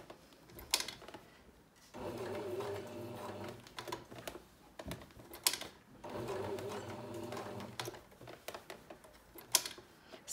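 A sewing machine stitches a pocket onto a vest, running in two bursts of steady mechanical whirring separated by brief pauses for turning the corner, with light clicks between runs.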